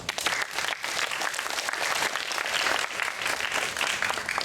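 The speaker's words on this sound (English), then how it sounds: "Give yourself another round of applause." A burst of applause from a room full of people, steady clapping that holds for a few seconds with no voices over it.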